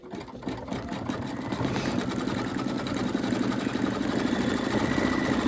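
An embroidery machine stitches an Easter bunny appliqué with zigzag and satin stitches, a steady close rhythmic buzzing whir that runs loud and unbroken throughout.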